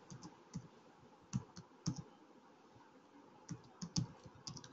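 Typing on a computer keyboard while writing HTML code in Eclipse: uneven bursts of close, crisp key clicks with short pauses between them, quiet and with no talking.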